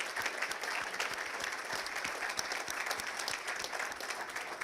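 An audience at a technical school's national signing day claps for new information and network technology students, a steady wash of many hands with some individual claps standing out, moderately distant.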